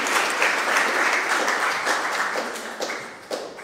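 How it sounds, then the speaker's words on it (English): Steady, dense audience applause for a speaker at a memorial lecture on typography, an even wash of many hands clapping at moderate loudness that thins slightly toward the end. "If you could all give her a round of applause so she can hear it"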